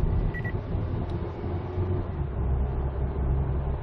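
A 2020 SsangYong Rexton Sports pickup accelerating hard on an empty road, a steady low engine and tyre roar with a continuous rumble, heard from inside the cabin with no talk.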